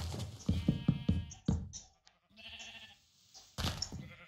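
Sheep in the Minecraft video game bleat repeatedly, a quick run of loud, close bleats followed by scattered shorter calls and one more burst at the end, with no talking over them.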